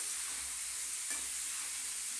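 Flat beans frying in oil, stirred in the pan: a steady, quiet sizzle with one brief scrape of the spatula partway through, heard close with no one speaking.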